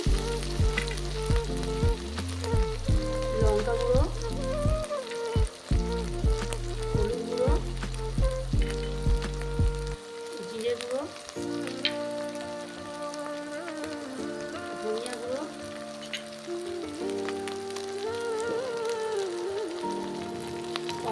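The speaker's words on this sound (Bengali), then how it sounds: "ভেজে নেব হালকা করে ভেজে নিয়েছি" Raw banana kofta frying in hot oil, a steady dense sizzle running throughout with strong background music on top, the crackle staying continuous and fairly close.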